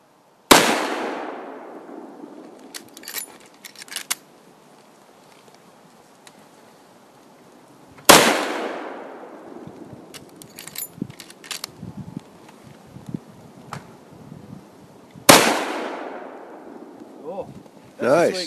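Three sharp, loud gunshots at target shooting, spaced several seconds apart, each ringing out with a decaying echo, with faint clicks and handling noises between shots.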